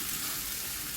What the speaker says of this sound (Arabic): هقلب اهو الرز مع العدس بالبصلة